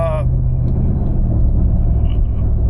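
Inside a moving pickup truck, a steady low road rumble drones loudly and evenly, with a brief voice at the start.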